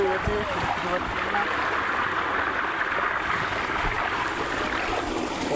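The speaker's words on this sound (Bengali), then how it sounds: "এখন আমি আলু দুটোকে ধুয়ে নেবো" Two potatoes are washed by hand in water, giving a continuous close splashing and sloshing rush that stays steady throughout with no pauses.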